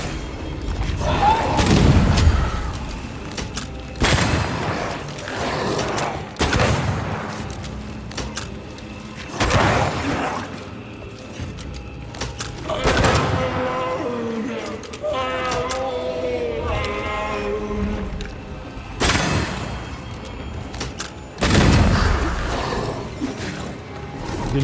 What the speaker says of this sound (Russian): Стрельба вслепую